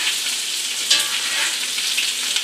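A rib eye steak frying in oil in a pan, giving loud, continuous close sizzling with a dense hiss and one brief brighter spatter.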